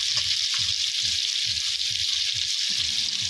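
Desi chicken meat going into a pan of fully fried spice paste for kosha, a loud continuous sizzle with crackling hiss and low bubbling spatters throughout.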